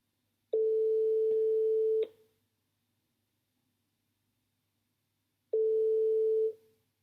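Two steady telephone ringback tones sound on an outgoing call to a psychologist, each lasting about a second and a half, separated by a long silent gap, clean and close with no talking.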